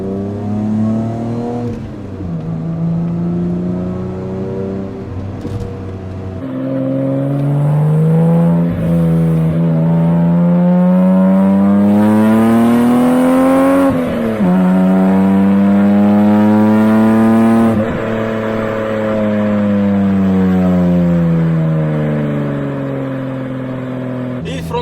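A 1987 BMW 320iS E30 engine revs repeatedly toward 7000 rpm, its loud, close tone climbing and falling in long sweeps with brief pauses between the pulls.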